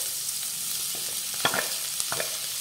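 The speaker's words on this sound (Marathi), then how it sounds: "आणि आता हा कांदा सुद्धा आपल्याला व्यवस्थित परतून घ्यायचा आहे।" Chopped onions sauté in a pan with garlic and green chilli for sevai upma, a steady soft sizzle broken by a few scraping stirs near the middle and end, close and fairly quiet.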